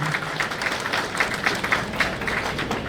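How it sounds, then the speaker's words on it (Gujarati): An audience applauds during an MOU exchange at a youth employment and skill empowerment ceremony in Mehsana, a steady roll of many hands clapping at moderate loudness throughout, with no voices. "જબરદસ્ત તાળીના ગડગડાટ વચ્ચે આપણે આ MOU એક્સચેન્જ થઈ રહ્યા છે."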